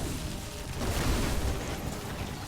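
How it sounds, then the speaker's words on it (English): Explosions ring out in a Heroes of the Storm match, a dense, sustained rumbling blast wash with a swell near the middle, steady and loud with no voices over it. "The explosions."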